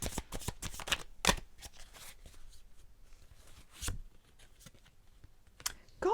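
Tarot cards flick and slide against one another as a card is drawn from the deck, a series of close, soft rustles and crisp snaps in a quiet room.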